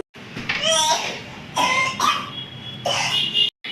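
A young girl with a heavy cold coughs several times in close, loud bursts, each a harsh chesty hack separated by short pauses.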